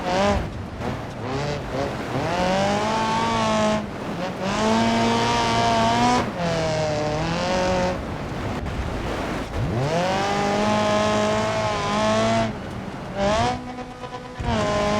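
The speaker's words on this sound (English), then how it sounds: "let you guys enjoy the sounds of this car." A rally edition car in BeamNG Drive revs hard through rising and falling gear changes, its loud engine whining up and dropping back several times with brief lifts between pulls, tires occasionally squealing.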